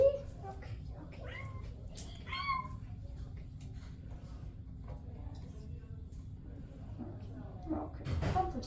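A shelter kitten meows softly several times over a steady low background hum, with short rising cries scattered through the clip and a brief louder call near the end.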